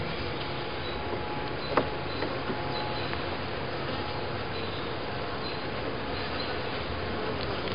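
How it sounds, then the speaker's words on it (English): A dense, steady insect drone of many honey bees buzzing close by on a hive frame during an inspection, continuous throughout with a faint tap near the start. "it's got a lot of bees on it"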